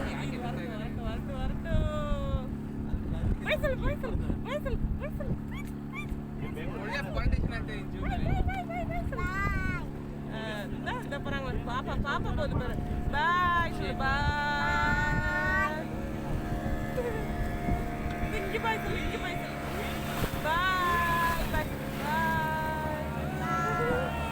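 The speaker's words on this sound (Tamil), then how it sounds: "போட் ரொம்ப ஆட ஆரம்பிச்சிருச்சு" A motor boat rumbles steadily on the water near a mangrove forest in Pondicherry, a continuous low engine drone under constant nearby talk and children's voices.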